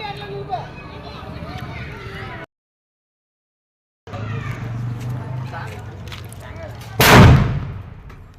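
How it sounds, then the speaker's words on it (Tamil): A large ilaneer firecracker, a big coconut-sized festival cracker, bursts with one loud, close explosive boom after a stretch of crowd chatter and voices at a village temple festival. "பெத்த சைஸ் இளநீ வெடி."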